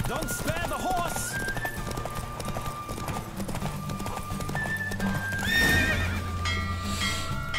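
Horse hooves clip-clop at a gallop with a whinny near the end in The Witcher 3, steady rhythmic hoofbeats under game music, a voice talking faintly in the background.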